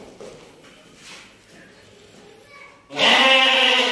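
A sheep for sale at a livestock pen in the El Kelaa des Sraghna area gives one loud, close bleat near the end, after a stretch of quieter background noise.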